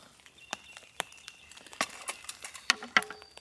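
Rain falling on a tarp during an April snowstorm at an outdoor camp with a fire, heard as scattered irregular pattering taps at close range, with no voices.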